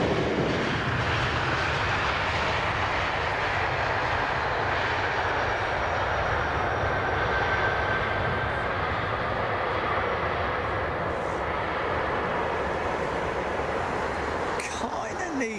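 An airliner takes off from runway 27R at London Heathrow, its jet engines producing a loud, steady broadband roar that holds for the full stretch with little change, and voices talking faintly underneath.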